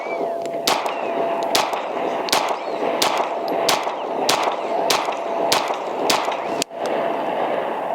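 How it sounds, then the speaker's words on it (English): An Atlas Ares Commander pistol fires 124 grain rounds at a target, about ten sharp, loud gunshots spaced at a steady, even rhythm with brief ringing between them. "got some 124s in here, and let's see how we do. I'm gonna shoot 5 to 10 rounds here on this target"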